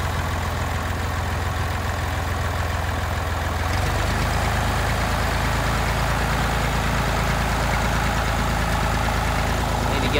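A Massey Ferguson tractor engine runs steadily just after starting, a continuous loud low rumble that deepens and strengthens a few seconds in, heard alone without voices.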